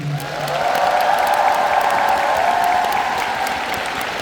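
Sustained applause from a fan meeting audience at a singer's musical debut anniversary event, a loud, continuous wash of many hands clapping, steady throughout, with a brief low tone at the start.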